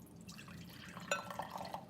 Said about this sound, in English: and just pour it in there like that, okay? So you can see there's water in there.